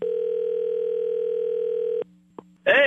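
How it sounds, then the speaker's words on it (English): A steady telephone dial tone hums for about two seconds, then cuts to a lower tone with a brief blip as a call is placed, ending in a burst of ringing or connection noise. "So, Kat, let's get him on the phone."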